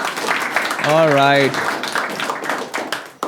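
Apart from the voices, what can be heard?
audience applause and clapping for comedian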